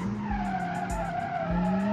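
Tires squeal steadily on a car cornering hard at high speed in BeamNG.drive, a loud sustained skid over a constant engine drone, with no talking.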